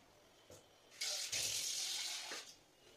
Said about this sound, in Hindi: चलिए इसको थोड़ा सा पानी देना पड़ेगा